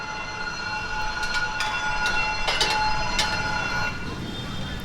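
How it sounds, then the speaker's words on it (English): A train rolls through a level crossing in Saigon, Vietnam, with a steady rumble, metallic ringing tones and several sharp clanks over about five seconds, heard from close by amid street noise. "If you ever want to see how a train happens in Vietnam, there you go."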